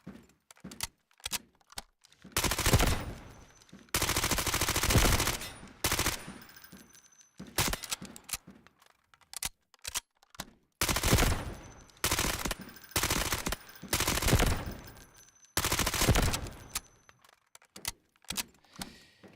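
SMG gunfire in Grand Theft Auto Online, heard as sharp bursts of rapid automatic fire separated by short silences and scattered single clicks, close and loud with no talking.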